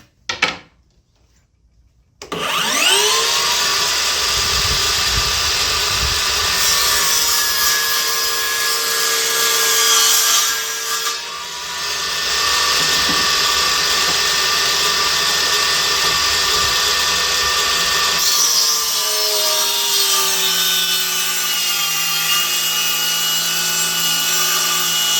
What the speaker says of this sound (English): Cut some plywood, and we're going to cut through a 2x4.